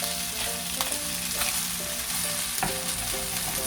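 Salmon fried rice fries in a pan with a steady close sizzle, while a utensil stirs and scrapes through it in a loose rhythm of soft knocks; no one speaks.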